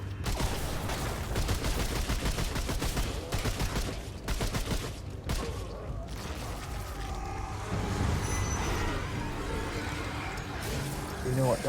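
Rapid, sustained gunfire from the video game Remnant 2, with dense bursts of shots and mechanical clatter running almost without pause over layered game effects and a talking player.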